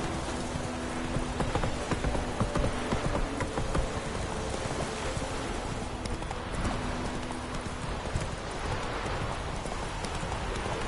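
A horse gallops in a PS4 video game, with steady rapid hoofbeats clip-clopping loudly throughout, and rain-like noise beneath.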